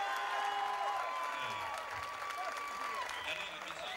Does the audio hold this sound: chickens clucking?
no